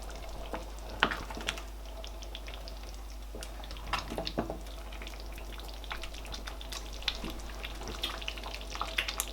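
Crayfish is stirred into egusi soup in a pot, with scattered scraping clicks and soft spoon knocks over a low bubbling background, faint and irregular.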